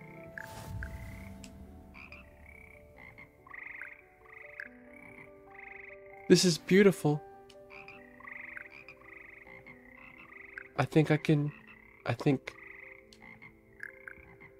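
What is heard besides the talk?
frog choir croaking in the video game Hogwarts Legacy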